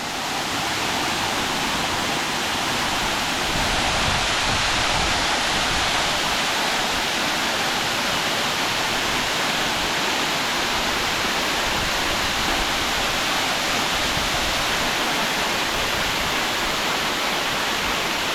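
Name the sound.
waterfall in Ranong, water flowing down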